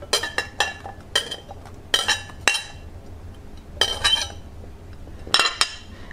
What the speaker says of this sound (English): And I have to cut this a little more. I have to cut this side.